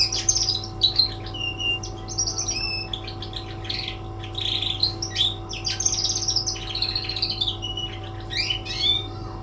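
A young songbird sings a halting, varied string of chirps, trills and squeaky notes, close by over a steady electrical hum.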